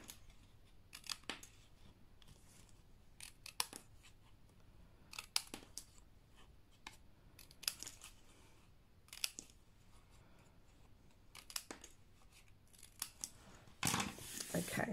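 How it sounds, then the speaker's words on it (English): Scissors cut the underside sections of a woven papercraft Easter basket level with the box top, producing faint, close snips spaced irregularly through a quiet room, with a louder rustle at the end. "I'm going to take a pair of scissors and just the underneath sections, I'm just going to trim them level with the top of the box."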